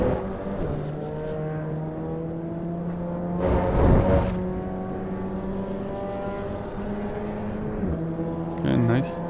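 A race car in a racing video game set at Imola drones at high revs, holding a steady pitch, then shifts and accelerates as it overtakes toward a chicane, with a brief louder burst midway and talk over it.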